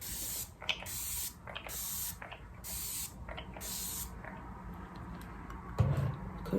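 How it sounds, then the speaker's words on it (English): A face spray bottle puffs a fine mist five times in a steady rhythm, each short hiss close and clear, followed by a soft bump. "I'm gonna just spray my face."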